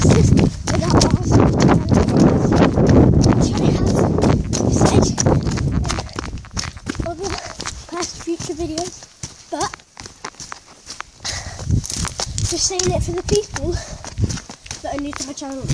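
Horses moving in a field at night, with hooves clip-clopping and shuffling on the ground, heard over rustling and a person talking at close range.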